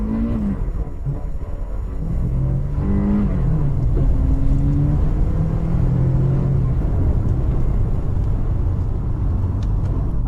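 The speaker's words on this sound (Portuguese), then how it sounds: "Desta vez, vou acelerar ao máximo." A Maserati engine is pushed to full acceleration, a deep rumbling exhaust with rising harmonic tones as the revs climb through the gears, loud and close with no talk over it.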